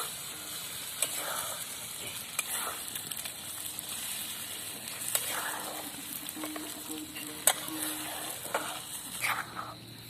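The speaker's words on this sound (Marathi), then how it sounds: "तर आता मसाले तळून झालेले आहेत तर आता लगेच त्यामध्ये अंडे टाकून द्यायचे आहेत" Eggs tossed into a pan of fried spices and onion for onion egg bhurji, with a steady soft sizzle and scattered scraping stirs of a spatula against the pan, close and moderately loud.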